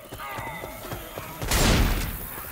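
Gunfire in the game Left 4 Dead 2: a loud burst of shots around the middle, with talk and game sounds before and a thick noisy roar carrying on after.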